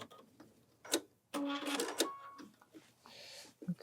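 Sewing machine stitching off the edge of pillow fabric for a ruffle pillow, in short bursts of rapid mechanical whirring with brief pauses between runs, close and moderately loud.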